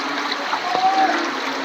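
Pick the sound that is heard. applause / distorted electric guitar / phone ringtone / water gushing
water gushing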